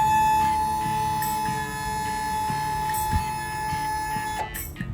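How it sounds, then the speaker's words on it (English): A 1972 Mercury Cougar's rim blow horn sounds as a steady, loud tone held for about four and a half seconds, then cut off, over the car's low engine rumble. "this is the delightfully named rim blow horn"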